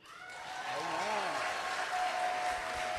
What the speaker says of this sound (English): please give him a wonderful hand clap.